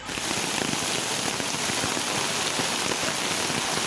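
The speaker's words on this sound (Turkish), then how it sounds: "Zonguldak'ta etkili olan sağanak yağış merkez Pozlu ve Kilimli ilçelerinde sele dönüştü." Heavy downpour in Zonguldak, Turkey, during a flash-flood storm: dense, steady rain hammering surfaces in a continuous loud hiss with no pauses and no voices.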